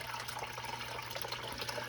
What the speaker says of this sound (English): So I can't really control the flow of water with this current pump that's in here.